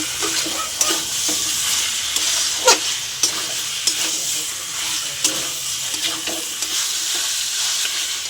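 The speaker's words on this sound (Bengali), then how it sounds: "স্বাদ মতো নুন দিয়ে দিলাম, ভালো করে নেড়ে নেব।" Chicken masala stirred in a hot pan after salt goes in, with a constant close sizzle of frying and repeated sharp scrapes and clinks of the spoon against the pan at an uneven rhythm, no voices.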